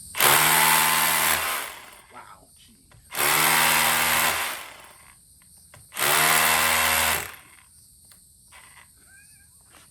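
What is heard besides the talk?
Milwaukee M18 FUEL SDS Plus rotary hammer drilling holes in house wall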